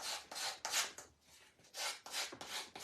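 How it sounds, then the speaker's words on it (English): A small micro sander working the edges of a wooden sign, a series of short close rasping bursts with brief pauses between strokes. "I'm going to take my little micro sander, and I'm just going to do the edges of my sign"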